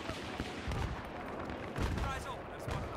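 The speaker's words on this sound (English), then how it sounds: "That guy didn't even react when I shot him." M1014 shotgun with flechette rounds firing in a Battlefield 3 team deathmatch, a few heavy booming shots amid dense game noise and background battle, with a player talking.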